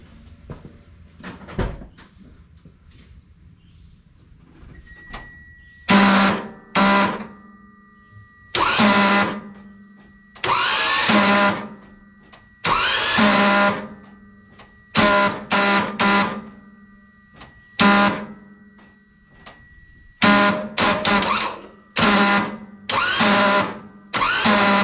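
A kei truck engine spins over on the starter with its spark plugs and distributor rotor removed, cranking in about eight loud bursts of several seconds each, separated by short pauses after a quieter stretch of scattered clunks.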